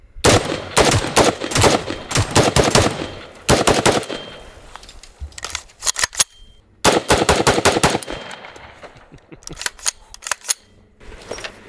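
A CMMG Banshee Mark 47 rifle fires in rapid bursts of loud, sharp shots, several strings of quick gunfire separated by short pauses, with trailing reports and no speech.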